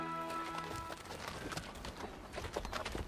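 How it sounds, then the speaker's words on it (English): Horse hooves clopping over moorland heather, a dense irregular patter of soft steps with a few louder thuds, steady and fairly close, sitting under a faint tonal background at the start. "Julian led the way, his horse picking its own path over the heather."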